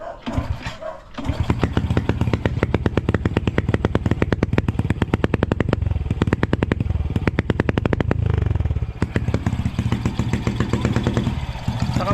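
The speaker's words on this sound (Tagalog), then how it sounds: "ingay yung makina" A Honda Wave 100 motorcycle engine with a fault, smoky and noisy, idles roughly and loudly, a rapid sputtering putter running steadily close by with no talking.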